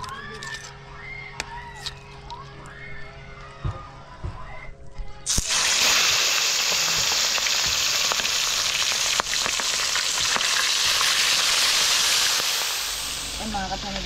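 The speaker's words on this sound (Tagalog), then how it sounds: "Prito tayo ng talakitok." Trevally hits hot oil with a sudden loud sizzle that keeps crackling and hissing steadily, following a few seconds of quieter clinks and handling.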